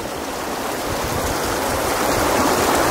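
A hidden waterfall in New York pours in a loud, steady rushing roar, close and continuous with no other sounds over it.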